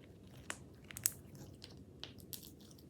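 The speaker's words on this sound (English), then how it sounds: "Oh, the crunch is so good." Crunchy clay slime being squeezed and worked by hand gives a few sharp, close crackling crunches scattered across a quiet stretch, with one especially loud pop near the middle.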